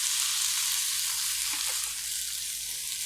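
Ground turkey and tomatoes fry in a pan with a continuous, fairly soft sizzling hiss, plus a faint scrape or two of stirring partway through.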